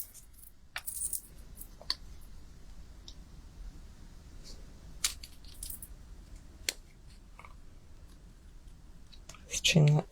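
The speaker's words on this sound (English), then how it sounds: "Let's just trim it off a bit." Card paper being trimmed for handmade birthday card making: scattered sharp snips and clicks of a trimmer at irregular intervals, close and quiet, ending in a louder rustling burst.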